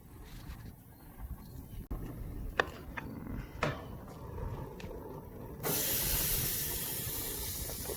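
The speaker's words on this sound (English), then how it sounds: "Make sure the grill's hot enough to get that sizzle." Lamb chops sizzling on a hot grill, a steady hiss and crackle close by with a few sharp pops, swelling to a louder, brighter sizzle partway through.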